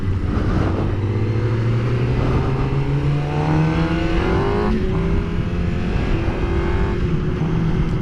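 A 2016 Suzuki Gixxer 600 sport motorcycle with a Yoshimura exhaust revs loudly up close, its engine pitch climbing and falling through several sweeps with a rough rumbling undertone.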